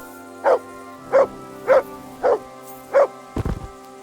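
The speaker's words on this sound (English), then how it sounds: "Good dog, Mutt. Show me" A dog barking in the video game Kingdom Come: Deliverance 2, five evenly spaced loud woofs about half a second apart, heard alone over a low steady background hum.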